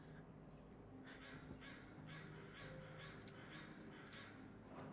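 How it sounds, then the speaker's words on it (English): A crow caws outside a window, several harsh calls spaced out in an irregular rhythm, moderately distant over a steady low background hum, with no talking. "Can you hear the crow outside my window?"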